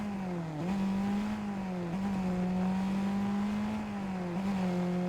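A Mercedes-Benz 190E drives in a video game, its engine holding a steady, close drone with brief dips and recoveries at each gear change, heard alone without talk.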